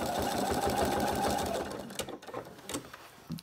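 A sewing machine stitches free-machine embroidery on a campervan appliqué, running in a fast steady buzz for about a second and a half before stopping, followed by softer handling clicks and rustles of fabric.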